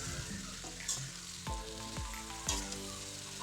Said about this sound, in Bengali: খুব সুন্দর করে আনাজগুলোকে ভেজে নিচ্ছি।